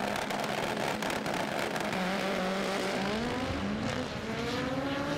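Front-wheel-drive drag race cars running at Santa Pod Raceway, with a loud, sustained engine roar that climbs steadily in pitch as they accelerate down the strip.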